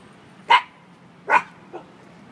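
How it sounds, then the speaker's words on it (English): Two loud, close dog barks about a second apart, followed by a softer, shorter yip. "Stella, stop barking."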